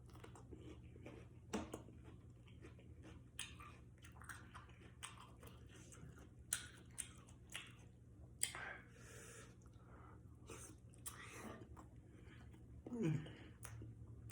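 Close, quiet crunching of cucumber being bitten and chewed during a mukbang, scattered wet crisp clicks and squishes over a faint steady hum.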